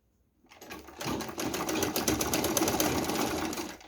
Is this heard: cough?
no